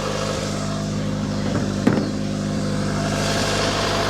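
A 1985 Honda Accord with 62K miles idles steadily nearby, a constant low engine drone with no revving and one brief knock partway through.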